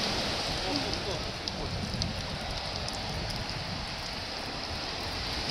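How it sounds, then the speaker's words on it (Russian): Water dripping and trickling from rock at a wild beach below a lighthouse in Anapa, a steady broadband wash of dripping and flowing water heard continuously and fairly close, with no voices. "Капает."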